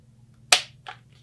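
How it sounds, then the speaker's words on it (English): Sharp trigger click of an IWI TS12 bullpup shotgun, a single crisp snap followed by a fainter second click, close and alone over a quiet background hum. "A trigger. Listen to the sounds."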